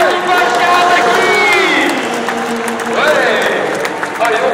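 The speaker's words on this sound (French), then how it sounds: "Mesdames et messieurs, applaudissements pour l'équipage Kawasaki." An audience at an arrival ceremony applauds the Kawasaki team, with clapping and crowd noise running steadily beneath loud, excited voices and shouting close by.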